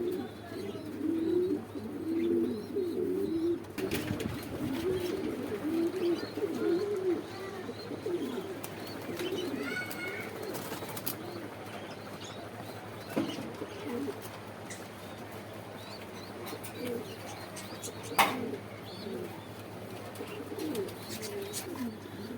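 Show-quality beauty pigeon pairs at an exhibition in Chandra, Gazipur, Dhaka, cooing in soft repeated rumbling phrases close by, with low murmured voices and a steady background hum; one sharp click stands out near the end.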